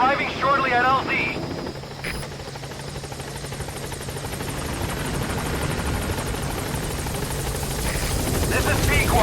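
A helicopter in the video game Metal Gear Solid V approaches a landing zone, its rotor a loud, continuous thrumming drone that builds steadily, with brief radio-style voice chatter at the start.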